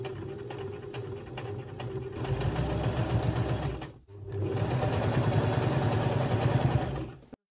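A sewing machine stitching jeans seams, running in two steady rhythmic bursts with a brief pause between them, close and loud.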